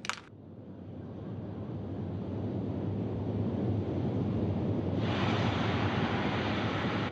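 Soyuz rocket launching from Baikonur, first stage liquid-fuel engines burning: a steady, broad, continuous roar that swells and holds loud from start to finish, with a sharp burst at the very beginning.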